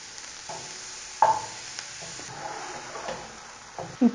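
Mushrooms go into a frying pan with shallots over low heat, giving a quiet steady sizzle broken by a few sharp clatters and scrapes of stirring, close by and with no voices.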